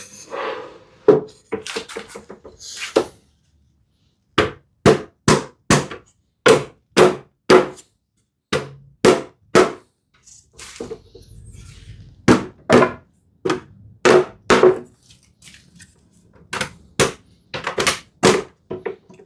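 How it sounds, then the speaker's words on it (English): Hammer taps on a wooden shoe tidy built with hand tools, closing up its joints: sharp, evenly spaced knocks in short bursts with brief pauses, close and loud, with no talk. "tap, like hammer tap with like close to equal measure, like quantity from every side"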